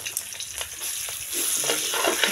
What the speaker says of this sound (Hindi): पनीर को कर लेते हैं फ्राई।